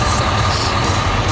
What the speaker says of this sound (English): Sitting here waiting for a train to cross, yeah.